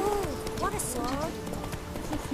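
Hoofbeats of Roach, a horse in The Witcher 3: Wild Hunt, clip-clopping at speed, with a voice speaking briefly over the steady galloping rhythm.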